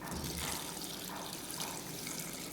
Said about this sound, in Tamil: நம்ம சூப்புக்கு பொங்கி கீழே போகாத அளவு தண்ணி சேர்த்துக்கலாம்.